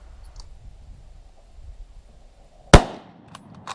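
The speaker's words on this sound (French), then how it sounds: "Je règle ma lunette et j'enlève la sécurité. Regardez bien, je tire le deuxième en partant de la gauche." A single hunting rifle shot fired through a scope at game during a culling hunt, one sharp loud crack standing out from quiet outdoor background, with a short tail and faint sounds afterward.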